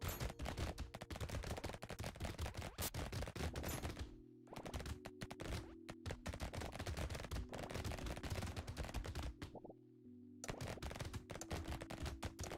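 Rapid SMG gunfire in a video game, dense rattling bursts nearly nonstop for most of the stretch with a couple of brief pauses, close and steady over a low game hum.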